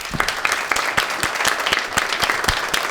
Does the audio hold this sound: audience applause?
yes